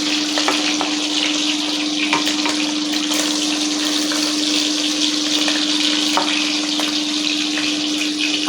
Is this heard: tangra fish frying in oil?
yes